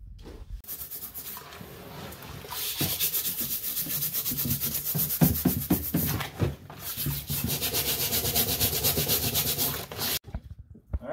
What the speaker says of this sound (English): I'm just going to scrub them off, wipe everything down real nice, rinse, and set it aside